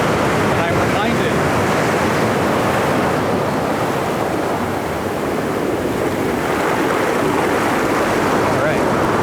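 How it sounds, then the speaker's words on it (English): Ocean surf breaking on a nearby shore, a loud, continuous roar of washing water with rushing wind over the microphone, no clear gaps between the rolling waves. "the ocean's right here"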